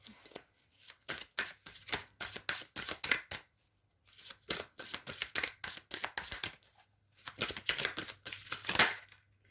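Tarot cards being shuffled close up in three bursts of rapid riffling and sliding, with short quiet pauses between them and no talking.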